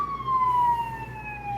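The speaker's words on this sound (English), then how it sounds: "Sorry about the siren." A siren from an emergency vehicle outside wails in a steady, slowly falling tone, clear and fairly loud through the whole short stretch, with no talking over it.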